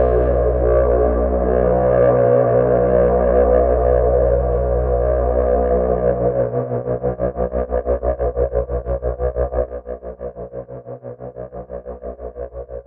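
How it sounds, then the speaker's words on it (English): A soloed synth instrument runs through the BLEASS Dragonfly effect app, giving a sustained, distorted, chorused drone that turns into a fast rhythmic pulsing wobble partway through, alone with no talk. "soloed so that you could hear the effect that BLEASS Dragonfly app has on it"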